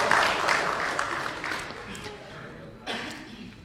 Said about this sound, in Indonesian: Tepuk tangan dulu buat Ibu Ega.